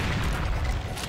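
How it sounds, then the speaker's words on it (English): Heavy booming gunfire and explosion from a first-person shooter game as a cyberdemon is shot, one dense roaring blast filling the full second, loud and close with no talking. "I'll shoot the cyber demon."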